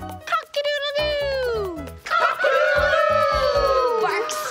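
A cartoon character's voice imitates a rooster crowing, a long rising-then-falling call sung twice in quick succession over a bright musical backing.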